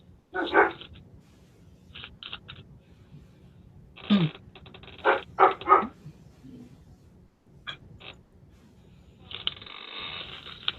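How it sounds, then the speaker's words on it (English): A dog barks excitedly in several sharp bursts, with pauses between volleys and a longer run of barking near the end, heard fairly close with no talk over it. "What is going on out there? I'll be right back. My dog is like having a coronary."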